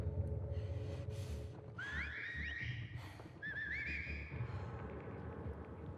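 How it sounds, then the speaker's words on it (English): Seraphite cultists in The Last of Us Part II whistle signals back and forth, a series of sliding, warbling whistle calls over a steady low ambient rumble of wind and footsteps. "As they whistle to each other."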